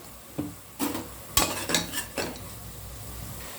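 Onions and tomatoes sauté in a pan for chicken biryani, with a low sizzle under several distinct scraping stirs and utensil knocks that come in uneven bursts, close by.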